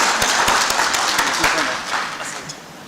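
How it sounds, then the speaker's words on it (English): A conference audience at a Kenyan universities funding event claps, with loud, fairly close applause made of distinct hand claps that fades toward the end, mixed with some voices. "Let's give them another round of applause as they leave."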